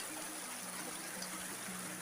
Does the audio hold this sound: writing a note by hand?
no